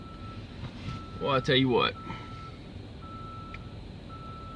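Reversing beeps from a truck at a truck stop, a steady repeating tone sounding through the whole stretch, with someone talking briefly over it and low engine and wind noise underneath.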